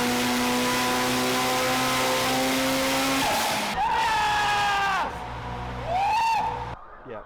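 A turbocharged drag car on nitrous making about 500 horsepower runs the length of the drag strip, its engine droning loud and steady, then rising and falling sharply through gear changes as boost builds.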